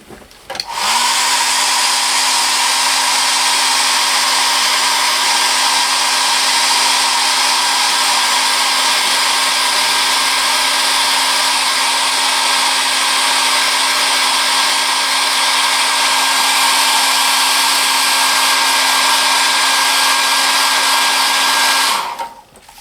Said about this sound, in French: attention les oreilles, je vais mettre un coup de sèche-cheveux